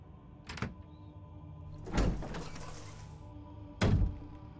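A door in Resident Evil HD Remaster, a heavy thunk near the start followed by a longer scraping, rumbling open around two seconds and another solid thud near the end, over quiet game ambience.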